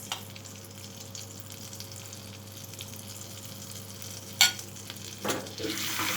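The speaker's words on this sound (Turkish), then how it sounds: "Yağım eriyor bir yandan." Fat melts and sizzles softly in a pan while preparing yogurt sultan kebab, a steady low frying hiss under a constant hum, with a couple of brief louder clatters near the end.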